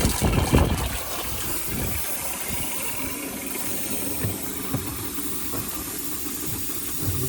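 Compressed air forced through a 60-foot RV water hose makes a steady, loud hiss with gushing water, sputtering more roughly at the start before settling into a continuous rush.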